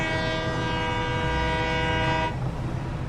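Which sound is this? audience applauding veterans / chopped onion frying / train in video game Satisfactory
train in video game Satisfactory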